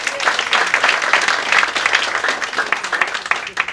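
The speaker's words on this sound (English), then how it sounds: "How about a round of applause for them?" A cabaret audience at Don't Tell Mama in New York bursts into applause, a close, lively patter of many hands clapping with slight swells, no voices standing out.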